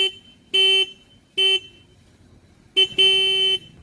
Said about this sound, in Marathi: तुम्हाला हॉर्नचा आवाज ऐकतो कसा येतो